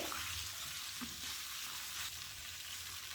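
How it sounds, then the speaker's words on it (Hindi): Masala for black pepper chicken fries in a hot pan with a dense, continuous sizzle and crackle, close and steady, with a few faint stirring scrapes and no voices. "जब ये अच्छे से फ्राई हो जाएगा देन इसमें हम थोड़ा सा वाटर ऐड करेंगे।"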